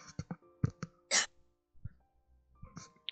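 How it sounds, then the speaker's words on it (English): Dry cough, several short sharp bursts close to the listener, then a brief throat-clearing rasp and scattered small sounds in a quiet room. "I had to, like, cough a dry spot out of my throat"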